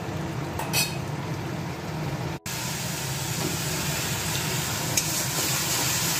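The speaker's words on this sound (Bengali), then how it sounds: "মশলাটা ভাজা হয়ে গেছে বন্ধুরা।" Spice paste with turmeric and salt sizzling in a pan for chicken kosha; a steady, close hiss of frying runs throughout, broken by one brief dropout.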